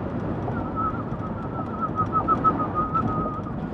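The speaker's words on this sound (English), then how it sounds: "This is what it sounds like when doves cry." A soft, breathy whistling coo repeats in a steady wavering line over low rumbling background noise, moderately near.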